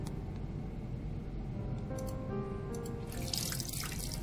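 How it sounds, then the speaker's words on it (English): Water dripping and trickling from a towel being wrung out in a video game, a steady liquid patter running throughout at moderate level with a brighter splash near the end. "wring out the excess water from a towel soaked in ice water"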